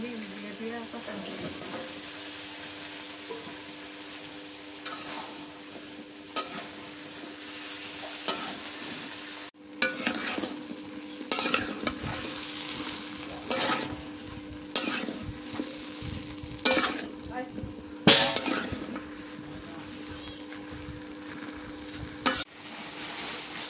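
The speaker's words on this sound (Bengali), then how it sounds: "এখন ভেন্ডি দিয়ে কষানো" Okra sautéing in a pan, a steady close sizzle broken by repeated scraping stir strokes and clinks of the utensil against the pan, continuing without pause through the whole stretch.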